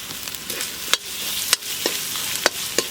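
Chopped tomatoes frying in oil with ginger garlic paste, a close, steady sizzle broken by several sharp scrapes and knocks of a spoon stirring the pan.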